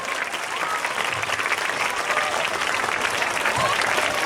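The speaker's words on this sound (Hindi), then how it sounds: "जोरदार तालियों के साथ इस्तकबाल होना चाहिए बच्चों।" A schoolchildren's audience at a cultural programme at a model school in Hyderabad claps steadily, a loud, continuous, even wash of applause that lasts throughout with no voices over it.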